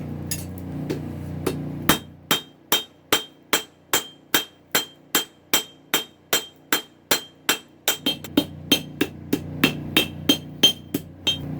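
Hammer blows flatten hot steel for a 1-inch end punch at a forge, ringing out as a long, steady, evenly spaced series of loud metallic strikes that speeds up briefly near the end.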